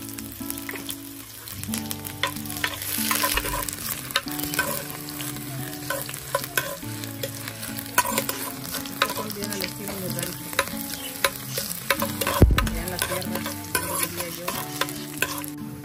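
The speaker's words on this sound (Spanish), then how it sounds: "Vamos a poner a sofreír cebolla." Onion sautéing in a pan for red enchiladas gives a steady sizzle with frequent stirring scrapes and clinks of a utensil against the pan, close and continuous with no talk.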